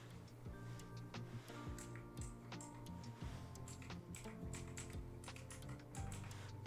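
Computer keyboard typing, a quiet run of light clicking keystrokes in irregular bursts, alone with faint tonal background hum.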